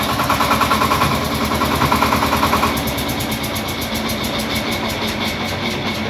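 A Shifeng SF-244B single-cylinder belt-driven mini tractor engine chugs steadily with a rapid, even putter, loud and close, running continuously throughout.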